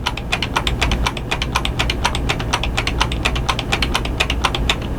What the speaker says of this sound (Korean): 알토 키를 누르고 예, 방향 키를 밑으로 한번 오른쪽을 한번